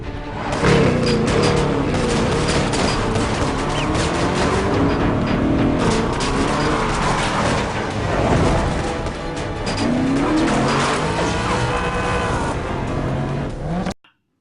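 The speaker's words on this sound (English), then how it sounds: "we see Bond making a great escape in his bulletproof Jaguar." A bulletproof Jaguar tears away in a James Bond car chase scene, its loud engine roaring and revving steadily for several seconds with skidding tyres and passing vehicles, then cutting off abruptly at the end.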